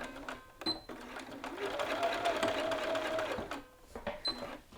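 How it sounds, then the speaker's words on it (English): A sewing machine stitches a lapel up to a match point, a fast steady whirring run of stitches lasting a couple of seconds between brief quiet handling noises and short bursts, close and clear. "So I'm going to force that one, pivot, and then sew up to the match point."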